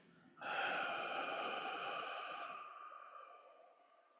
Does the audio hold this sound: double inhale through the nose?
yes